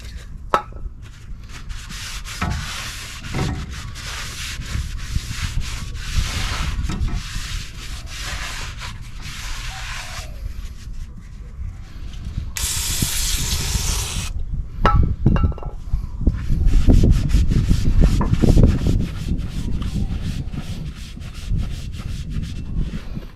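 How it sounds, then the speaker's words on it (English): A front brake rotor on a 2004 Chevy Colorado is scrubbed clean with brake cleaner, a steady close rasping rub running continuously with a brief hissing spray burst partway through, no talk. "Cleaning up my rotor with some brake clean."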